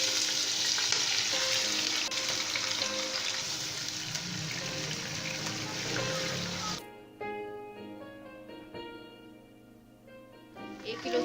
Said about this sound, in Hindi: अब इसको घी के अंदर हम फ्राई करेंगे